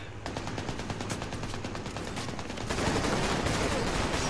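Heavy gunfire in the game Army of Two: The Devil's Cartel, dense rapid automatic bursts running continuously and loud, intensifying into a thicker barrage toward the end.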